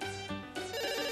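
A telephone rings with a melodic, tonal ringtone in short repeating phrases, clear and alone with no talk over it.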